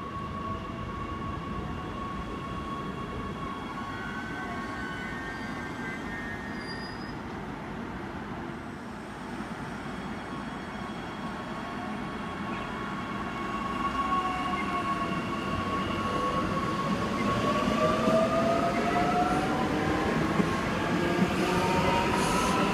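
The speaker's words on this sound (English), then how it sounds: "Arriving into platform 2, we have the All Stations to Shorncliffe service" A Queensland Rail SMU train, units 227 and 240, pulls into platform 2 at Wooloowin station as an all-stations service to Shorncliffe. A low rolling rumble grows steadily louder, with faint wheel squeals and tonal whines over it and no talk.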